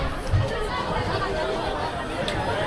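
Dense chatter from a crowd of passengers fills a bus stop at Rajapur as people board and get off, a steady close babble of overlapping voices with no single speaker standing out.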